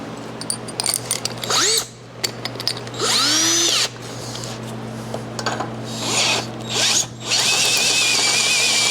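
Step drill bit enlarging a hole in a motorcycle gas tank mount on an XLCH chopper, several close whining bursts with rising pitch and grinding bite, separated by brief pauses over a steady hum.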